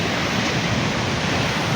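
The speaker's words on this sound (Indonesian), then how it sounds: "Suara ombak." Broad, steady roar of surf washing continuously at Nyang Nyang Beach, Uluwatu, Bali, loud and close, with no distinct breaks between waves.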